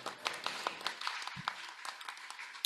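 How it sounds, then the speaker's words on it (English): Scattered clapping from a small group at a community co-op gathering, thin and somewhat distant, a handful of hands tapping irregularly for a few seconds. "I'd love a round of applause for them."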